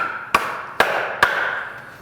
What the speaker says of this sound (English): Then I'll hammer that second one in until it hits this third one.